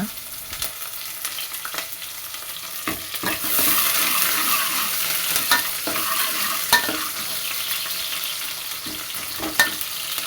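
Chopped onion and curry leaves frying in hot oil in a pressure cooker: a steady sizzle that swells louder partway through, broken by occasional scrapes and clinks of a stirring spoon, with no voices.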